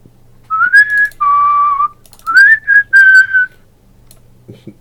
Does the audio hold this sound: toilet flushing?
no